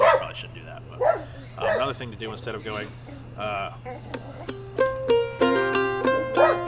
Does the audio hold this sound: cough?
no